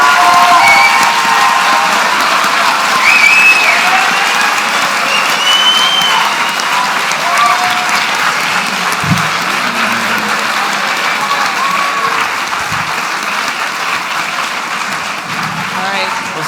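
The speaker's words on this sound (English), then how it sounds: "I think we should give our candidates and our panelists another round of applause. Cheer away." Sustained applause and cheering from the audience at a Saskatoon mayoral debate, loud, dense clapping with whistles and shouts that carries on and slowly eases over its length.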